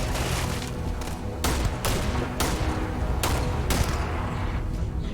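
A semi-automatic gun in Starfield fires a handful of sharp, loud single shots at an uneven pace over a steady, dense background rumble.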